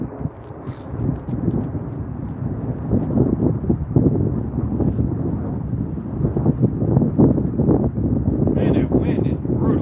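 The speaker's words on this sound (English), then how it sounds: "Man, that wind is brutal." Strong, cold wind outdoors on a catfishing trip roars and buffets the microphone loudly and without a break, with gusts rising and falling throughout.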